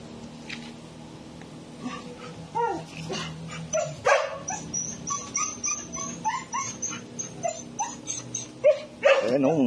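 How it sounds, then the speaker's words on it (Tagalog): Several dogs bark, yip and whimper in an outdoor scuffle, close by and fairly loud, the sharp bursts coming in irregular clusters throughout with a louder flurry near the end. "Ang ingay ng aso"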